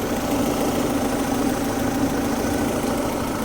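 A Honda H2B car engine idling after its timing belt was refitted, a steady close rumble with a faint rhythmic tick and no changes in speed, no talk.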